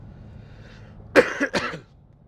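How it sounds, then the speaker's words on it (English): Two sharp, close coughs in quick succession after a moment of quiet room noise. "sorry about the cough"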